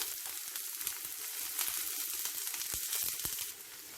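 Green chilli, onion, ginger and curry leaves frying in a pan for a kappa masala dosa filling, a bright continuous sizzle with occasional clicks, close and steady with no speech.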